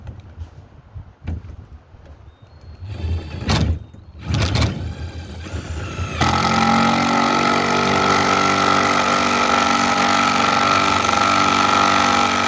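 A power drill drives lag screws into 2x4 wood while a custom bow mount for a Minn Kota Edge 45 trolling motor is built. Scattered knocks and handling noises come first, then a steady close motor whir runs for several seconds.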